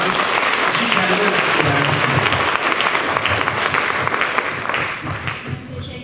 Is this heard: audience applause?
yes